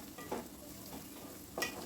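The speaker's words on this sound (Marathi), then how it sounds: "आता मोठा गॅस करूया आणि परतून घेऊया" Onion, garlic and ginger sautéing in a pan for pav bhaji, a soft steady sizzle with a couple of brief stirring scrapes, close and fairly quiet with no talk.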